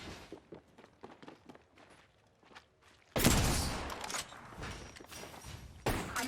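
Rapid gunfire in the video game Apex Legends, bursting in loud and dense after a stretch of light footsteps and small clicks, then continuing as sustained shooting with a second burst near the end.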